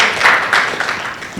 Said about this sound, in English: I think your district president deserves a round of applause